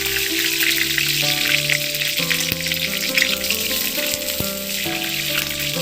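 Bay leaf and whole five-spice seeds sizzle steadily in hot oil, a dense continuous crackle and hiss throughout with faint tonal background music layered underneath.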